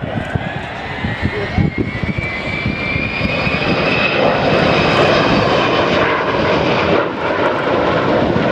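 A bomber aircraft flies past at the Dunsfold Wings & Wheels air show in 2013. Its jet engines make a loud, sustained roar that swells and holds, with a high whine over the rumble.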